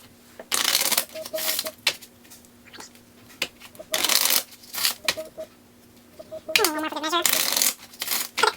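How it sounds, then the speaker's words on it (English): A deck of playing cards is riffle-shuffled several times: short, crisp bursts of rapid fluttering snaps separated by brief pauses, close and clear, with no talking. "We're gonna shuffle these a couple of times."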